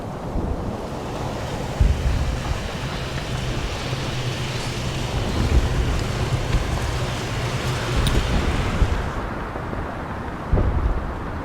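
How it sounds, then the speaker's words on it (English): Wind blowing through pine trees on a hill, a steady broad roar with low gusty rumbles and buffeting against the microphone, sustained throughout with no voices. "the silence and the wind blowing through these eerie pine trees"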